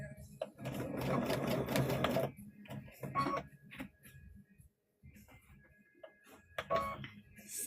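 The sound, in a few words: sewing machine stitching a trick-or-treat bag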